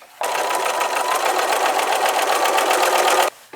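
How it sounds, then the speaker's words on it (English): A sewing machine runs steadily, stitching a quilt strip onto the side of a quilt with a quarter-inch seam, a continuous close whirring hum for about three seconds with no talk. "we will sew this strip onto the side of the quilt with a 1/4 inch seam"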